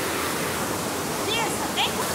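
The Cunhambebe waterfall gives a steady, even roar of falling water that fills the whole moment, with faint voices barely rising above it.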